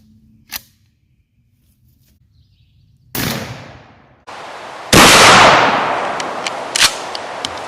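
A 12 gauge shotgun fires 3-inch Hornady Heavy Magnum Coyote loads outdoors at a turkey target 30 yards away: a small sharp crack, then two loud, close blasts with lingering decay.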